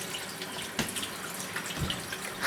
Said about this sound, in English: wash your hand